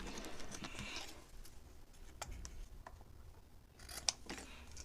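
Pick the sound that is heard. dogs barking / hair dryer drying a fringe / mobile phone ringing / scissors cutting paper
scissors cutting paper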